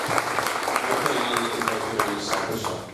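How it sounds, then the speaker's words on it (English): Moderate audience applause at a summer camp dance show, scattered clapping from a modest crowd in a hall, steady for a few seconds before tapering off. "Big round of applause for all of you."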